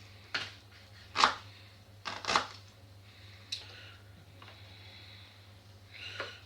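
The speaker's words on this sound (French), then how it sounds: "Donc on coupe des petits morceaux." Onions being chopped into small pieces for a spicy spaghetti sauce: a handful of separate sharp knife strikes spaced about a second apart, close and fairly quiet over a low steady hum.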